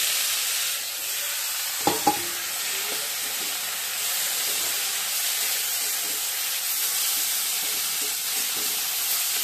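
Leafy greens frying in a pan with fried coconut, giving a steady, close hiss of sizzling throughout, broken near the start by a couple of brief clanks from stirring.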